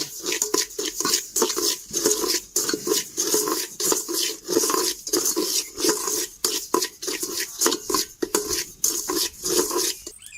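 A ladle stirring thick milk cake mixture of milk and ghee in a pot, with repeated scraping and clinking strokes in an irregular rhythm, close and fairly loud, no talking.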